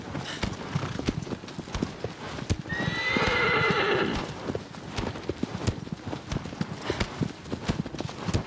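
A horse gallops in the video game Shadow of the Colossus, its rapid hoofbeats pounding steadily and close throughout, with a loud whinny rising in the middle.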